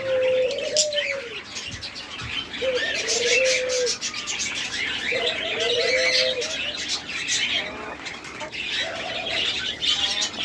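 Doves at a large dove farm coo in repeated low rolling phrases, several in turn, amid busy chirping from other caged birds and occasional flapping wings, close and lively.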